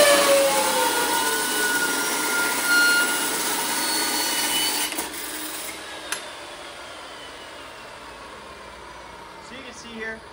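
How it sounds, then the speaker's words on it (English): A saw cuts a 6 by 1/4 inch 304 stainless steel plate with a steady, bright grinding whine that tapers off and stops midway, leaving quieter shop noise and a few small clicks. "We're cutting 6 by 1/4 inch 304 stainless plate."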